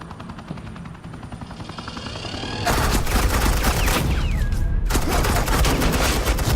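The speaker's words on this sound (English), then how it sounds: "suppressing fire." Sustained suppressing gunfire from the video game Batman: The Enemy Within, starting as a quieter whir and mechanical hum, then bursting into dense, loud automatic fire with a short pause before it resumes.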